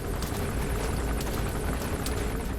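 A helicopter from the video game Metal Gear Solid 5: The Phantom Pain hovers nearby. It makes a loud, steady roar of rotor and engine noise that fills the whole stretch with a faint rhythmic chop, and no one speaks.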